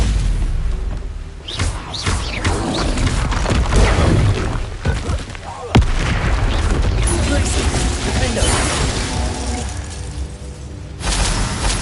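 Confringo fire spell explosions in Hogwarts Legacy: loud, rumbling blasts and crashing impacts over a dense battle soundscape, with one sharp hit midway, amid in-game voices.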